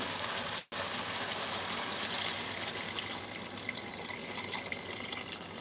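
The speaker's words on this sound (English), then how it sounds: "Now I'm going to add water." Water poured into a soup pot, a continuous loud splashing rush broken only by one brief pause near the start.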